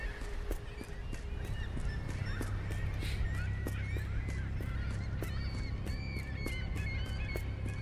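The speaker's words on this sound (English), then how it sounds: "So that's why the birds are crying out." Birds cry out in the horror game The Lightkeeper, a World War I tale. Honking calls repeat over a steady low ambient drone, with faint rhythmic clicks throughout.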